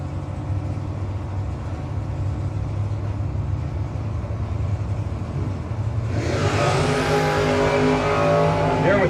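Drag race cars, including an '89 S10, at the No-Box 660 Shootout roar down the track in a loud, sustained engine drone that surges brighter near the end as they pass close.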